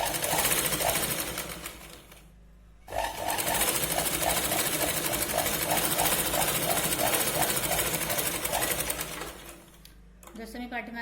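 A sewing machine stitches a katori blouse in fast, rhythmic bursts, loud and close. It pauses briefly twice and runs under a voice speaking Marathi.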